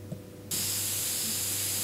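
A sudden burst of loud, steady spraying hiss starts partway through and continues to the end, rising sharply over a low background hum.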